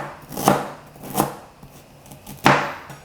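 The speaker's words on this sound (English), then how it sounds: "Once I've peeled the ginger, I like to just cut it into thin slices" A knife slicing peeled ginger into thin slices on a cutting board, three crisp, close chopping knocks spaced unevenly across a few seconds.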